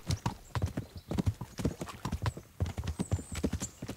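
Horse hooves clip-clop steadily at a brisk, even trot in the medieval game Kingdom Come: Deliverance, the hoofbeats close and continuous throughout with no talk over them.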